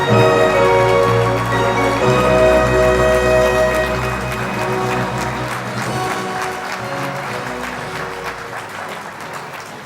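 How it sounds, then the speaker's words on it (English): Audience at an annual philanthropy gala applauding honorees, steady dense clapping with musical tones underneath for the first half, continuing loud and sustained across the room. "one more round of applause for both our honorees"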